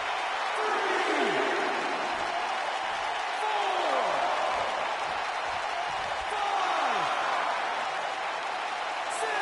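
Hot wrestling arena crowd in Minneapolis keeps up a dense, steady roar of cheering and applause, with rising and falling whistle-like calls cutting through.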